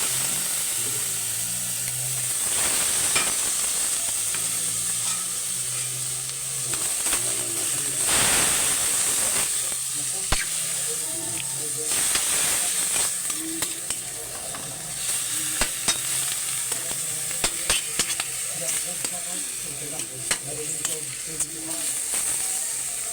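Meat sautés in a pan with garlic, giving a steady sizzle and hiss broken by repeated scraping stirs. A voice talks intermittently over the cooking.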